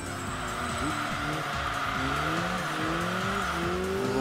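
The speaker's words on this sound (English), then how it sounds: "Little bit of a slide there" Tyres squeal and slide on a race car in the Enthusia racing game, a sustained skidding whine over steady engine drone with rising and falling gear tones, loud and continuous with no talk.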